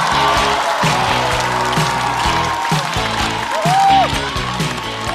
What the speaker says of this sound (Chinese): 掌声欢迎冯子豪